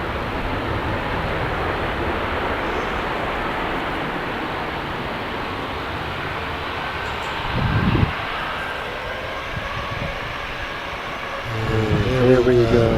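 An unliveried passenger jet departs Manchester Airport with a loud, steady broadband engine roar that swells toward the end, heard from nearby with a voice speaking briefly.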